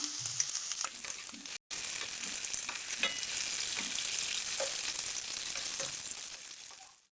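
Chicken 65 deep-fries in hot oil, a dense, steady hiss with light stirring clicks and a brief break partway through, fading at the end.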